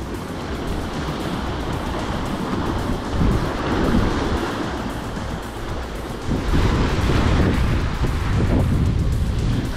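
Wind gusting across a rocky seaside fishing spot in the Goto Islands, a broad roar mixed with surf wash and microphone buffeting that swells louder in the second half, with no speech.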